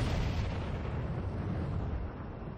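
Explosion of a struck target in the Ace Combat 6 combat flight video game, a dense, rumbling low blast with a long roaring decay that fades gradually, heard alone without talk.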